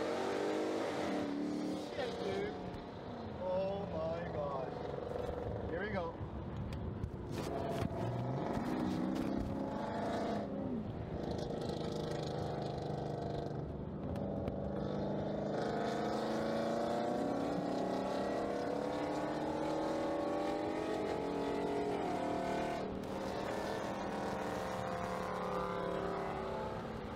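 A Dodge car drives with a loud engine that drones continuously nearby, rising and falling in pitch as it accelerates, with voices chatting over the engine noise.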